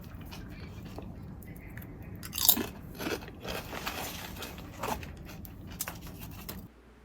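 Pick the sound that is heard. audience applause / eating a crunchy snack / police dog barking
eating a crunchy snack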